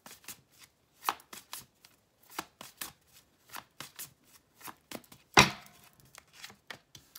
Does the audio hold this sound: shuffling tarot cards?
yes